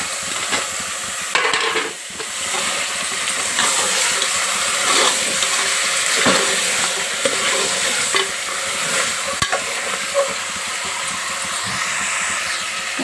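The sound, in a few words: washed mutton frying in oil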